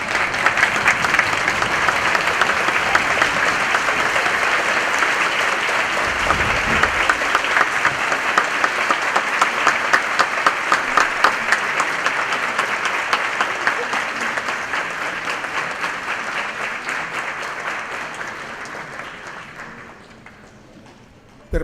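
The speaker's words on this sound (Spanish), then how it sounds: "Los invitados lo recibimos de pie y con un fuerte aplauso," Sustained, loud applause from guests standing at a formal university honorary doctorate ceremony, a dense steady wash of clapping that continues evenly for about twenty seconds before tapering off.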